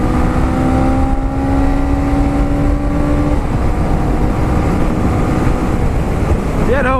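A Honda CMX 500 Rebel motorcycle accelerates hard in first gear, its engine drone loud and close against constant wind rush, with the tone steadying and then shifting midway through.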